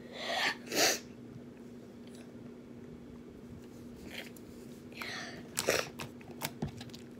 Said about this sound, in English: I have a little sneezes.